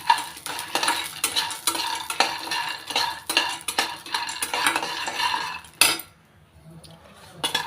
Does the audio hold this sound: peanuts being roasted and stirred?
yes